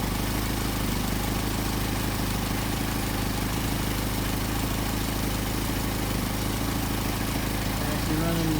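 A Mercedes 190SL engine with Solex carburetors idles steadily at about 700 RPM, a constant low rumble running unbroken and fairly close throughout.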